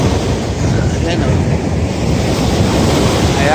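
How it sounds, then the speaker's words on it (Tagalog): Strong ocean surf crashes continuously at Calilayan Cove beach while heavy wind buffets the microphone, producing a loud, dense, unbroken roar close by with no clear breaks. "Sobrang lakas ng alon."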